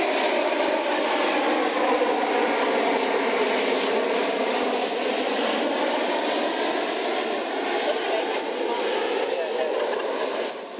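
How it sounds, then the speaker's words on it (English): A loud, steady roar of an airplane passing overhead, sustained throughout and easing slightly toward the end. "damn airplanes."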